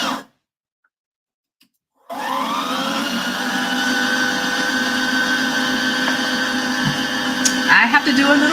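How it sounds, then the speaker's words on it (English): A domestic sewing machine winds a bobbin in a steady, continuous whir that starts abruptly after a short silence and runs near and fairly loud, with a brief click near the end. "I'm gonna do a bobbin."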